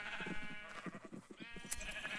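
Sheep bleating in a video game, several wavering bleats close together over quiet game ambience, fairly soft and nearby.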